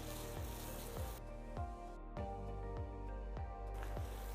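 Grated corn roasts in a pan with a faint sizzle while being stirred, a regular stroke landing roughly every half second. The whole scene stays quiet and close.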